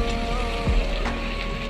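Shrimp and taro stolons fry in a pan with a constant close hiss and sizzle, under a low steady hum, over a couple of seconds of stirring.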